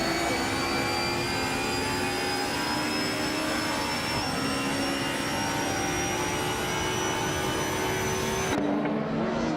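A 1986 Alfa Romeo 75 Group N touring car in a racing video game, its engine holding a loud, steady high-revving drone with sustained whine, dropping briefly near the end as it shifts or lifts.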